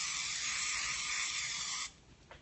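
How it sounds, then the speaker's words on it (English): A Misto oil sprayer mists olive oil over a dish of layered ratatouille with quinoa, giving a steady, close hiss for nearly two seconds before it cuts off abruptly. "you can just spray, although half of it is going on the counter right now"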